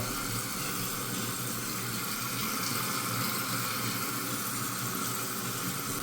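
Water runs steadily inside a toilet tank during a parts replacement, a continuous close hiss and trickle of leaking flow with no pauses for the full six seconds.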